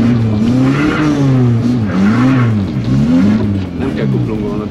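A Suzuki Swift engine revs and accelerates steadily over nearly five seconds, loud and close from inside the car, with a rising and falling engine tone throughout.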